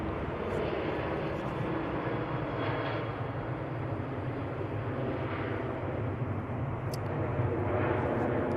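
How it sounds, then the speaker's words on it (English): A Ryanair jet takes off for Milan from Manchester Airport, its engines a steady, fairly distant roar that holds evenly from start to finish with no voices. "Ryanair off to Milan."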